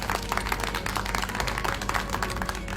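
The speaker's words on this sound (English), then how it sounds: "Why don't you give yourselves a little clap?" A team of children applauds itself after a Bible quiz, a quick burst of many hands clapping unevenly at moderate volume, crowded and continuous for a few seconds.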